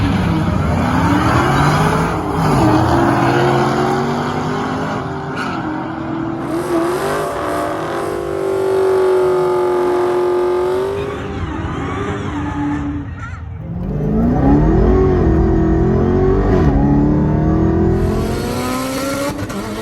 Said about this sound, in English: now it is a stock Hellcat. All it has is a B-Woody intake. There she is outside getting ready.